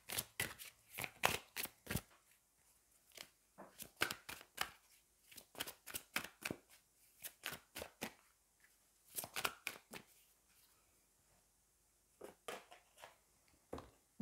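Oracle angel cards being shuffled by hand, quiet close riffling bursts repeating in an uneven rhythm with short pauses between them.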